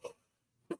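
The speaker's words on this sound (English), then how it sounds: "I still got that lingering cough." Two short, soft coughs, close by, separated by a brief quiet pause.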